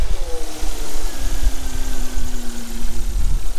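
A 1989 Volvo 480 engine running for the first time in 8 years, a loud close-up rumbling idle with lumpy pulsing and a slow rising throttle blip.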